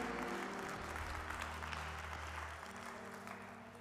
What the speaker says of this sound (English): let's give God a great big hand clap of praise.